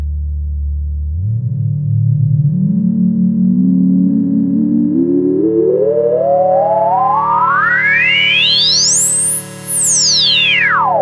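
A Behringer DeepMind 12 synthesizer tone sweeps steadily upward through a resonant 2-pole filter, rising to a bright, piercing peak before dropping quickly back down, loud and alone.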